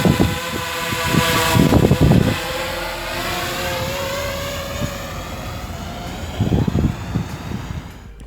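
DJI Mavic Pro drone taking off outdoors in Figueira da Foz, Portugal, a steady high whine of spinning propellers with louder low bursts of wind buffeting at the start and again later, no talk.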